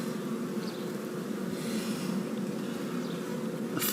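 Honeybees hum continuously around an open top bar hive during an inspection, a dense steady drone with occasional nearer passes, moderately loud and close, with no voices.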